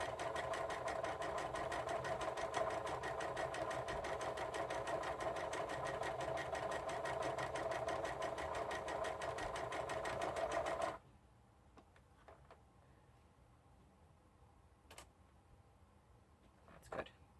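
A standard sewing machine imitating a serger seam runs steadily with a fast, even mechanical whir and rhythmic stitching clatter, then stops abruptly, leaving faint clicks and handling noises.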